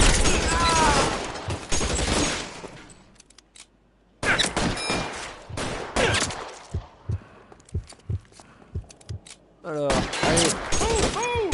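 Machine gun fire from the video game L.A. Noire comes in loud bursts of rapid shots, broken by pauses, with someone talking over and between the bursts.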